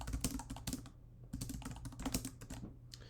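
Rapid typing on a computer keyboard, close and clear, with bursts of clicking keys separated by short pauses and no talking.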